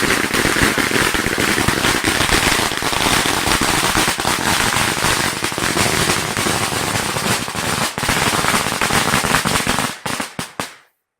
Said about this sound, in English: everybody has to leave now before they light the firecrackers